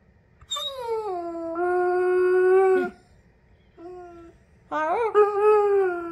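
A German shepherd dog howls along in long, wavering tonal wails, two sustained howls, a shorter one, then a rising, quavering final howl, close and clear against a quiet background.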